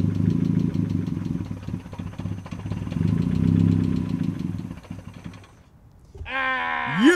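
A racecar engine running on straight Sea-Foam idles with a rough, knocking rumble for several seconds, then the sound dips and a high, wavering squeal rises near the end.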